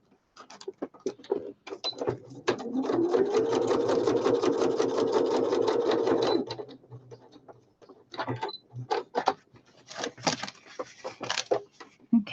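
A sewing machine stitches through a handmade journal in one sustained, loud whirring run of about four seconds, framed by scattered clicks and taps of handling before and after.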